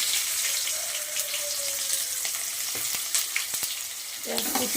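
Chopped onion sizzles steadily in a hot pan for chicken curry, a continuous broadband hiss with occasional clinks and scrapes of stirring, close and moderately loud with no talking.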